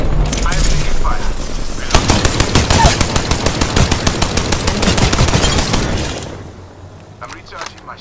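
Rapid automatic gunfire in Apex, loud and close, rattles off in a sustained burst of sharp evenly spaced shots before trailing into scattered single cracks.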